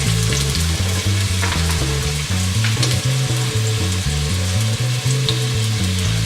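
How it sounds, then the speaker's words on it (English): Chopped onions, garlic, scallion and celery sauté in olive oil for a Jerusalem artichoke soup, a steady close sizzle and crackle running unbroken under a layer of low background music. "Go ahead guys and saute your onions, your garlic, scallion and celery just until soft"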